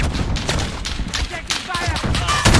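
A grenade explodes in a Modern Warfare beta match amid dense rapid gunfire, loud and continuous with heavy low thumps throughout the short burst.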